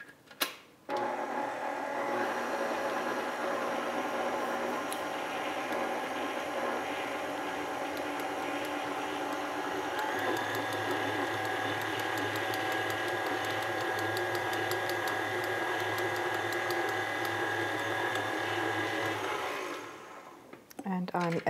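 An electric stand mixer churns sugar and flour for Heidesand cookie dough, a steady loud whirring hum that shifts to a lower, heavier drone partway through before stopping.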